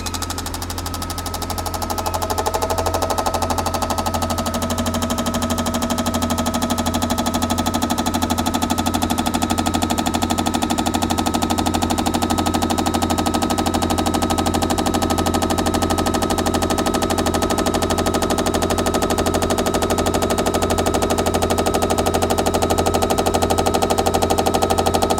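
Fuel injectors firing rapidly on a test rig during a flow uniformity check, a loud, steady mechanical buzzing chatter that starts within the first few seconds and continues without letup, with no voices.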